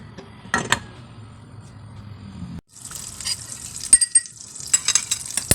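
Egg frying in butter in a pan: a few clicks and clatters, then after a brief pause a steady, close crackling sizzle sets in and carries on, with louder pops toward the end.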